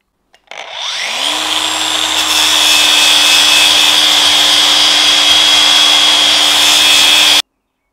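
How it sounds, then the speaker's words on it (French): An angle grinder fitted with a medium-grit flap disc smooths a weld bead, spinning up quickly and then holding a loud, steady whine with a rough grinding hiss until it cuts off abruptly. "Maintenant, je vais utiliser un disque à lamelles avec un grain moyen"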